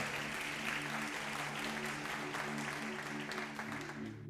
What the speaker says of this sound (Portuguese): Vamos aplaudir o Senhor, porque Ele merece.